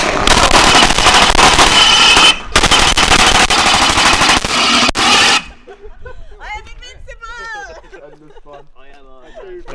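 Loud special-effects gunfire from a big gun at a live stunt show roars in a sustained rapid burst for about five seconds with a brief break, then gives way to a crowd and talk.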